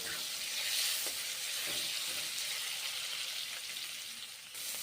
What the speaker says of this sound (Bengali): এখন পেঁয়াজগুলো ভেজে নিচ্ছি